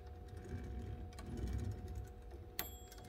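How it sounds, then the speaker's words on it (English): The bell mechanism of a 1931 Urania 7 typewriter, slightly out of tune, gives a sharp metallic ding near the end over a steady low mechanical hum and faint clicks, with no talking. "This is a bell mechanism."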